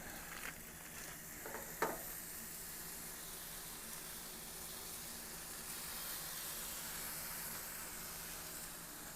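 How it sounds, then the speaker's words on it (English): Steady, quiet sizzling of quarter-pound burger patties frying on a hot grill, with a couple of faint clinks early on and no talking. "I like when I can hear that sizzle."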